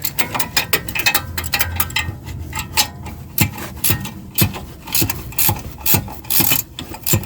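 A wrench ratchets on a tight brake caliper bracket bolt of a Chevy Equinox, a quick series of rapid clicking bursts broken by brief pauses, close and fairly loud, with metallic knocks mixed in.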